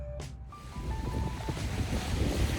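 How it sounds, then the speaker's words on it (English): Gusty wind blows outdoors, a steady broadband rush that swells and stays loud, with faint tonal whistles drifting through and no voices. "The wind's picked up."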